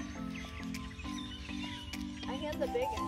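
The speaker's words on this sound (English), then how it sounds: "this donkey is coming to get a carrot" A donkey vocalizes as it walks up for a carrot at a rural animal enclosure near the Okefenokee refuge, a braying, wheezing call rising over steady background noise while people talk nearby.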